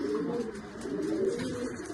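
Soft, low cooing from pigeons carries on continuously, fairly quiet against a faint background hum.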